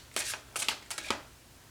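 Tarot and oracle cards being shuffled by hand, Arcanum Tarot, Energy Oracle and Angel Answer Oracle decks, in several short riffling bursts, close and fairly quiet, no talking.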